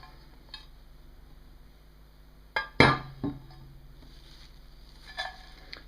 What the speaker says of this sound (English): Now I'm going to put it into a glass container.